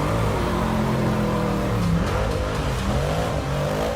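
The Batmobile, a four-wheel-drive car built around rally-car hardware, gives a loud, continuous engine roar that climbs and falls in pitch as it revs. The sound is close and rough and fills the whole span, with no voices over it.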